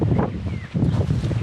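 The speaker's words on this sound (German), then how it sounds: "windig" Gusty wind buffeting the microphone, a low blustery roar that dips briefly and then surges back.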